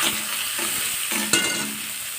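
Chopped onion sizzles steadily in hot oil with a bay leaf, cracked cardamom pods and cinnamon sticks, a loud continuous hiss punctuated by a few spoon scrapes and one sharp clink, with no talking.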